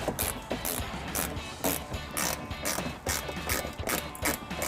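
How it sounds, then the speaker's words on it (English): A power driver with a Phillips head bit backs screws out from behind the wheel well of a 2017-2024 Maserati Levante, giving a rhythmic series of loud ratcheting clicks and whirs, close and without talk. "You can now remove 4 screws from behind each wheel well using a Phillips head bit."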